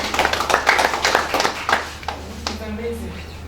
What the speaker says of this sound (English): I want you to clap for Pwan.